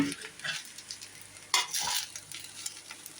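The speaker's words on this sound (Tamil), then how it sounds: "நல்லா கலந்து விட்டுட்டே இருக்கலாம்." Garlic rice cooked in ghee is stirred and scraped around a hot pan, with soft sizzling and a few utensil scrapes and clinks over about three seconds, close and fairly quiet.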